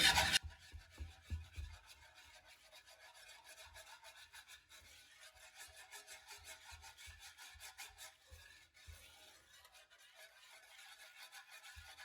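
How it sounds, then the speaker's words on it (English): A whisk scrapes and rubs rhythmically against a pan of Southern cream gravy, a quiet, raspy stirring sound repeating steadily throughout. "pull out the noisy whisk again because it just works best"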